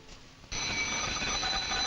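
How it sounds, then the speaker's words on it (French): An electronic alarm starts abruptly and rings continuously, a loud, steady high-pitched buzzing tone after a brief quiet moment. "Et puis, vérifions le système d'alarme."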